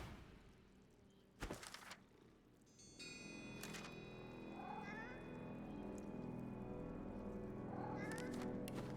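A cat meows a few times within the video game Divinity: Original Sin 2, the calls rising over a steady game ambience after a couple of sharp door-like knocks.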